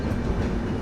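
Express train running through Duvvada station without stopping, a steady loud rumble of wheels and carriages with faint clickety-clack throughout.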